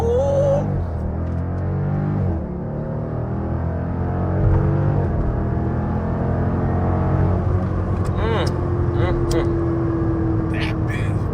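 Three Dodge SRT cars with mid muffler deletes rumble close by, engines droning and revving under a steady exhaust tone, with sharp crackling pops near the end and voices talking over it.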